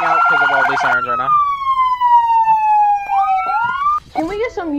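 Police sirens in a roleplay video game, loud and close, a rising and falling wail that sweeps down then climbs again, overlapped by another siren's rapid yelp and brief bursts of radio-like chatter.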